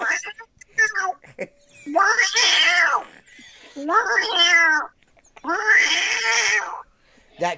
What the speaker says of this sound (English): Oh, we got a cat too.